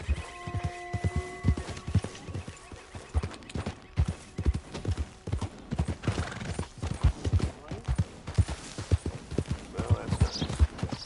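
Horse hooves clip-clop steadily in Red Dead Redemption 2 as the rider trots along, a brisk continuous rhythm of close, sharp hoof strikes with a brief whinny-like tone at the start and faint game ambience underneath.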